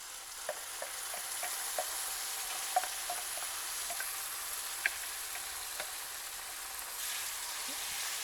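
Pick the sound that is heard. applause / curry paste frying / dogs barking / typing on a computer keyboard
curry paste frying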